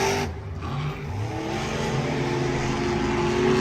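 Monster trucks roar around a Monster Jam arena in Utah, engines revving loud and continuous with a steady rising drone, no talk over it.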